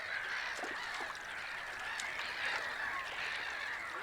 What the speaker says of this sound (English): The biggest bird in the region is the mute swan.